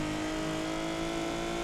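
Infiniti Q60s engine in the racing game Need for Speed Payback, set up as a drift build, holding a loud, steady, droning tone at constant revs with no talk.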